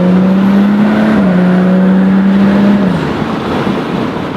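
A tuned BMW 435i with Stage 2+ modifications including downpipe and intake accelerates on the road, its engine a loud, steady drone heard from inside the car, rising slightly in pitch then easing off toward the end.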